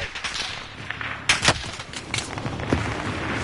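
Gunfire in a video game arrives as a rapid cluster of sharp shots in the middle, with scattered lighter cracks around it over a rumbling background and no talk.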